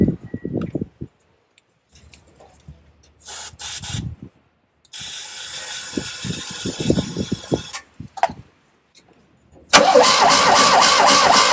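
Small choked engine cranking through a newly swapped ignition start switch, several separate bursts of rhythmic starter churning with silent gaps between, then a louder, steadier running roar at the end.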